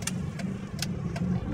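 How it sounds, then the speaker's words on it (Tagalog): A motorcycle suddenly passes on a road in Lingayen, Dagupan, Pangasinan, its engine a steady close rumble with brief revving bursts over continuous traffic noise. "May motor bigla."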